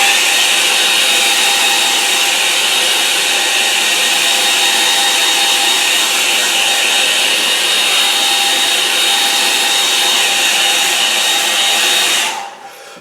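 Hair dryer blowing steadily on a watercolour painting of late autumn leaves, a loud continuous whooshing roar held close for about twelve seconds before cutting off.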